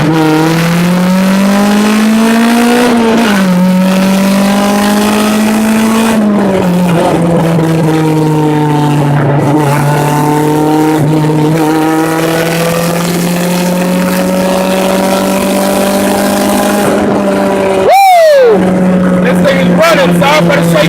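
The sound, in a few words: Honda Civic accelerating through gears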